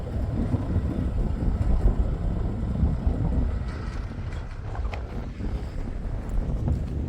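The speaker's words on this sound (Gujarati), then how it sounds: "પવન બહુ આવે." Strong wind buffeting the microphone outdoors on a farm field, a continuous low roar and rumble with gusty swells and no talking.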